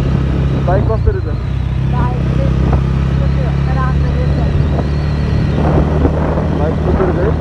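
A motorcycle rides along a road from Kathmandu toward Kalinchok, its engine a continuous low drone with wind noise, while a person talks over it throughout.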